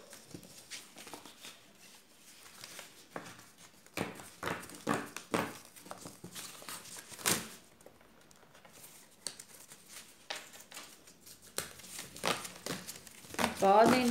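Paper is folded and torn along a dotted line in a classroom, giving soft crinkles and short tearing rasps at close range, mixed with a quiet voice talking.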